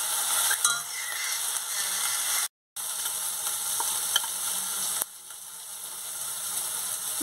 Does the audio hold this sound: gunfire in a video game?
no